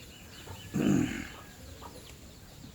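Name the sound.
chicken clucking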